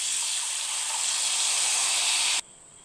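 Tamarind juice is poured into a hot cooking pan, making a loud, steady sizzling hiss that holds for a couple of seconds and then drops off abruptly to a quieter simmer.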